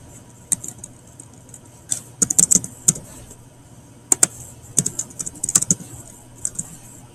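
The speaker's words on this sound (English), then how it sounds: "simply by typing in a question" Keystrokes on a computer keyboard as a question is typed in, sparse clicks in short irregular bursts, fairly close and alone in a quiet room.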